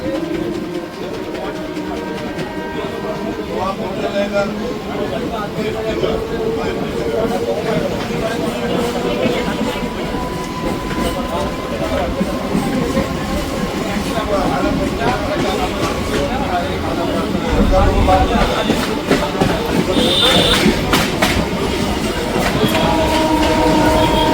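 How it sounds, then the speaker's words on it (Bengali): A Howrah to Amta local train rolls into Domjur station after 23 kilometres, its steady wheel rumble and rhythmic clatter loud and continuous inside the carriage, with voices talking over it. "হাওড়া থেকে টোটাল 23 কিলোমিটার যাত্রা সম্পন্ন করে আমাদের ট্রেন এই মুহূর্তে এসে পৌঁছালো হলো ডোমজুর"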